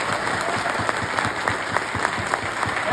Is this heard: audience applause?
yes